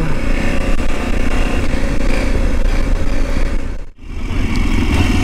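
A motorcycle engine runs loud and close, a rough steady rumble with wind buffeting that dips briefly near the end before picking up again.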